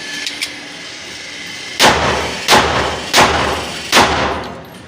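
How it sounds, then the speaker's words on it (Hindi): Four sharp, loud shots ring out close by at a steady interval from a Beretta .30 bore pistol being test fired, each one a hard crack with a short decay, preceded by quiet handling clicks. "चेक फायर करता हूँ"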